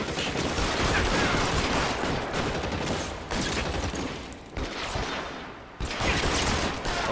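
Dense, rapid gunfire crackles almost continuously in the detective game L.A. Noire, loud and close, with a few short pauses between bursts.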